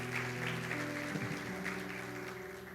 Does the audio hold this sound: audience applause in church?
yes